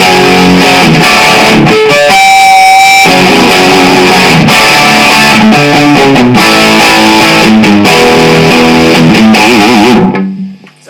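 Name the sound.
distorted electric guitar playing a song's lead-in to chorus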